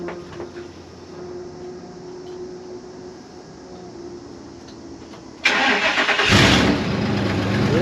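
An old $100 Ford plow truck engine, recently fitted with a new fuel pump, is cold-started after sitting unused since January: a low steady idle-like hum first, then a sudden loud crank and catch that roars up to a rough, loud running engine.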